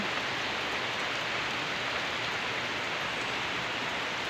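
Steady, dense rain hisses evenly throughout, a constant wash of falling water with no pauses or voices.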